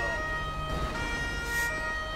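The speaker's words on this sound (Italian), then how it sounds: "Eh no, sono i colleghi con le sirene." Police sirens from the LSPDFR mod of the GTA video game, with Italian police vehicles, wail continuously. The sound is steady and tonal at moderate loudness and runs alone the whole time, with no speech.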